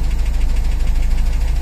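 A Gurgel car engine with low oil pressure idles steadily, a loud, close, continuous rumble with an even pulsing throb and no voices.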